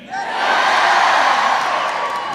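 Rally crowd in a gymnasium cheering and whooping loudly, a swelling roar of many voices that peaks in the middle and stays dense to the end.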